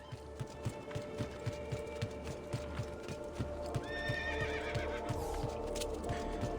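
Rhythmic hoofbeats clop steadily as a horse runs in Assassin's Creed II, and a shrill whinny rises partway through, all with a slightly synthetic, game-like quality.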